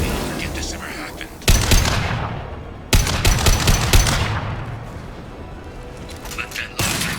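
Rapid automatic gunfire and heavy blasts in the video game Mass Effect 2, loud bursts cutting in and out with brief pauses, mixed with game voices talking.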